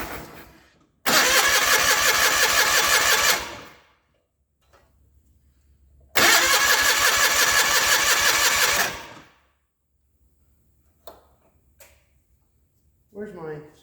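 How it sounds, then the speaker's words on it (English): A 1989 John Deere 420 tractor engine cranks in two long starter bursts of about three seconds each without catching. Quiet gaps fall between the bursts, and a faint sound follows at the end. "So I'm going to sit here and crank on it,"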